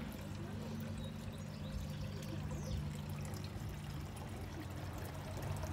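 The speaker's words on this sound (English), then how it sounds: "If you can hear water trickling, there's" Garden water feature trickling outdoors just after a rain shower, a steady, soft continuous splash and dribble of running water throughout, fairly faint and even, with no talk over it.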